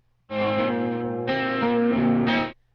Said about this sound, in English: fix the distortion a little bit on the guitars